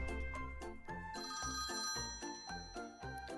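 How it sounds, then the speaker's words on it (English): A telephone rings in a repeating electronic pattern with a regular pulsing rhythm, fairly faint and without any voices. "Our phone rang."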